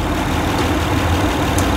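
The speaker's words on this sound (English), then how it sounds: "So it sounds like when it's idling." A 2011 Honda Odyssey's V6 engine idles with a steady, close low rumble and an even, unchanging hum.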